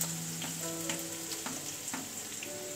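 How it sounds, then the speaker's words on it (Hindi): Onions frying in hot refined cooking oil in a pan for spicy Maggi, with a steady close sizzle, brief stirring scrapes, and a faint tonal hum running underneath. "तो दोस्तों, यहाँ पे हम डालेंगे प्याज,"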